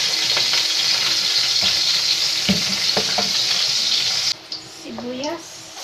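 Garlic sizzles and fries steadily in a hot pan for Filipino-style chop suey, with stirring scrapes and clinks throughout and a brief break in the hiss near the end.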